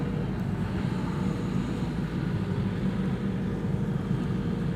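An Air France airliner arriving from Paris at Schiphol's Polderbaan runway 18R gives off a continuous low engine rumble, steady and moderately loud for the whole span, with wind noise on the microphone.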